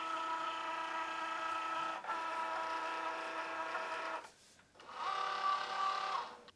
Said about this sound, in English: Cricut will automatically grab this and pull it in.